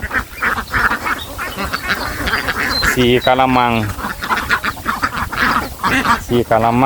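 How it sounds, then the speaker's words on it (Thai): Laying ducks quack repeatedly in a noisy flock while someone talks steadily over them in Thai, close by. "เป็ดพันไข่ครับผมพี่น้อง กินอาหารอิ่มแล้วก็ลงไปกินน้ำครับผม"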